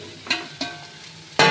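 Pieces of katla fish go into hot oil in a pan for a thin Bengali fish curry, giving a low sizzle with a few sharp clatters and splashes as they land, nearby and without talk.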